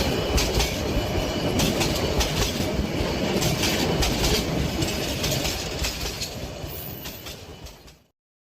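A cartoon train pulling away from an empty village station rumbles loudly with a rapid clickety-clack of wheels on the rails, steady throughout before fading and cutting to silence at the end.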